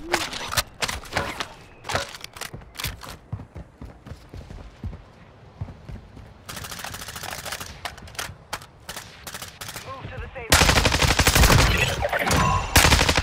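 Rapid bursts of video game gunfire crackle in quick volleys, stopping and starting, with a dense, louder stretch of continuous shooting toward the end.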